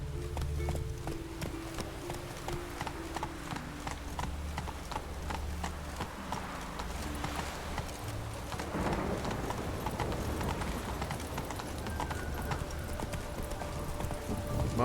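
Roach the horse gallops in The Witcher III, a steady rhythmic clip-clop of hooves up close, running continuously under game music and ambience.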